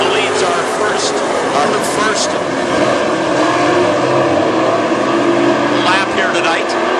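WISSOTA Super Stock race cars run laps at Princeton Speedway, with a continuous loud engine roar filling the track while an announcer talks over it.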